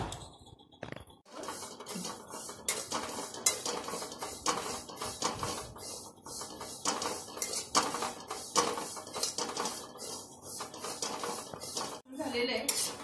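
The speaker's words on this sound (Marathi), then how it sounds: "तर आता हा मसाला आपण भाजून घेऊया" Byadgi and lavangi chillies dry-roasting for masala in a pan, heard as a dense, continuous rustle and scrape of the chillies being stirred against metal, with clinks throughout and a person talking.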